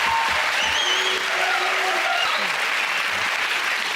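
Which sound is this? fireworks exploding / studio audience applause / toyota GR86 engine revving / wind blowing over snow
studio audience applause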